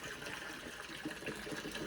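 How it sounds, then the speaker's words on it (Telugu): Water fills a container at home, a steady, soft rushing flow that runs evenly throughout without breaks, fairly quiet and with no voices over it. "వాటర్ పట్టాలి."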